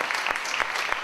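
An audience at a conference introduction applauds with a dense, steady burst of clapping that continues for the whole short stretch, with no voices over it.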